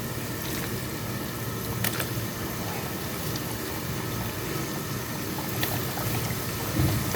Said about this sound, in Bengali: এখন আমি চুলার আঁচটা হাই করে দিব, দিয়ে আমি উইংসগুলি দিয়ে দিব।